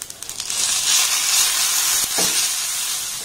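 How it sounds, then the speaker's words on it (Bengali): Onion and green chilli sizzling in hot oil in a pan with ginger-garlic paste just added, a steady loud hiss with a few soft stirring scrapes, no voices. "পেঁয়াজ আর লঙ্কাটাকে একটু হালকা লাল লাল করে ভেজে নেব"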